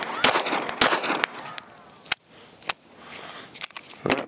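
A Sig P365 Fuse pistol fed from a 17-round Sig X macro magazine fires a string of loud, sharp shots at an uneven pace, with about nine cracks spread over a few seconds.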